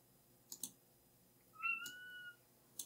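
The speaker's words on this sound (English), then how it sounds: "And that's my cat." A house cat gives one short meow amid a few sharp clicks, like keys being tapped, in a quiet room; the meow is faint but clear, and no one talks.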